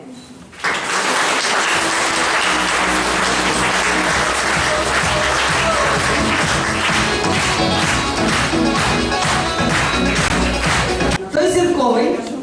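Audience at a Savyntsi lyceum event in Ukraine applauding as four schoolgirls are welcomed, loud dense clapping under music, with a voice briefly heard near the end.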